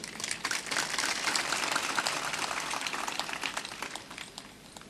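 An audience at a religious discourse claps in a dense, steady burst of applause that fades slightly toward the end, with no talking over it.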